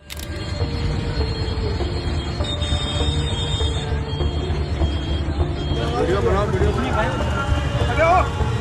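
Steady rumble of a moving train with rhythmic rail noise, and wheels squealing in the last few seconds; faint voices blend into the background.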